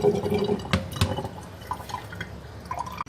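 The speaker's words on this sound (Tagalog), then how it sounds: "Tapos, iti-drain lang natin yung tubig." Water from boiled spaghetti pours off into a sink, a brief splashing drain with a few close drips and trickles that fade over a few seconds.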